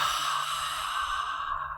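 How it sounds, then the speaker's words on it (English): A single long, steady ujjayi or oceanic yoga breath, a close, continuous airy rushing sound resonating in the throat, loud and unbroken throughout. "Ujjayi breath, they call it in yoga."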